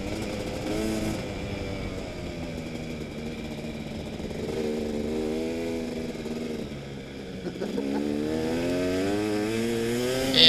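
A KTM 250 dirt bike rides offroad over slippery, rain-soaked ground, its engine note rising and falling steadily as the rider works the throttle, heard up close with no voices.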